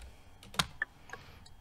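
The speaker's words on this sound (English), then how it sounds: "I'm actually typing this as well." A few sparse keystrokes on a computer keyboard, quiet and close, with one sharper click standing out among softer taps against a faint room hush.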